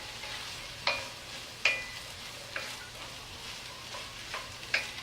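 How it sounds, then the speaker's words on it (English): Millet and quinoa water-sautéing in a pan give a soft continuous sizzle, broken every second or so by sharp utensil clicks against the pan, close by and with no talking. "you can water saute this."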